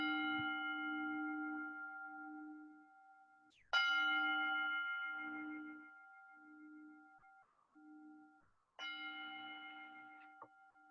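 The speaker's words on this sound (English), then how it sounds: "we're going to start with the sounding of the bell, which is our call to mindfulness" A meditation bell sounded as a call to mindfulness rings three times, each clear metallic strike followed by a long, slowly fading sustained tone, quiet and alone with no talk.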